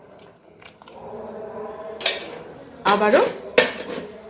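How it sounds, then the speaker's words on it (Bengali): A metal spoon scrapes and clinks against a cooking pot while food is stirred after fresh raw turmeric is added, giving several distinct clattering strokes that grow louder toward the end, with a single brief spoken word. "একবার একটু নাড়িয়ে দেব।"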